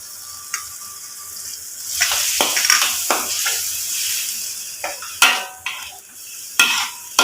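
Chiraai being stirred into a cooking pot, a spoon scraping and clinking against the metal amid a soft sizzle, in uneven close strokes with a few sharper knocks.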